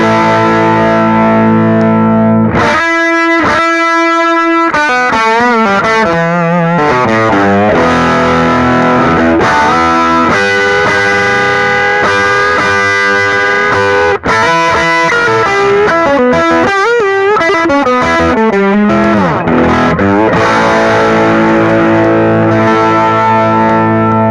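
Electric guitar through a Keeley Manis Overdrive pedal plays continuously, mixing sustained distorted chords with busy picked runs and riffs, loud and close with no talking.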